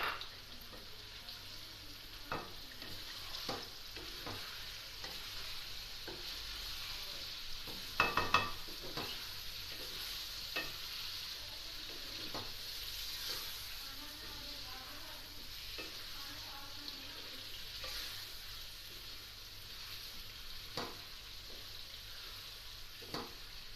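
Tomatoes fry in oil for chicken biryani, giving a continuous soft sizzle broken by spoon stirring and scraping at irregular moments, with one brief louder clatter partway through.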